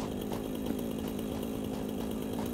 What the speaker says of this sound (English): a giant chainsaw to murder our enemies